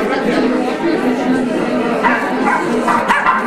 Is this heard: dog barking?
yes